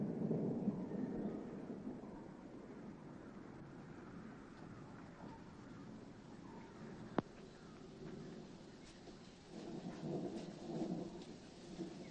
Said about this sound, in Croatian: Od ono ide velika kiša, brže to.